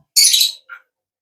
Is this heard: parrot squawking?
yes